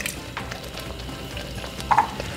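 Shrimp in coconut cream simmers and sizzles in a pan for ginataang hipon with string beans and squash, a steady close bubbling with a brief stirring scrape near the end.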